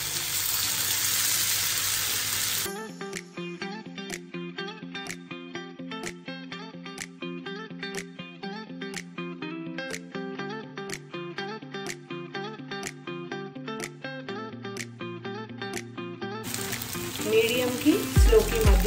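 Fish pieces dropped into a pan of hot oil: a harsh sizzling hiss at the start and again at the end, with rhythmic background music filling the middle.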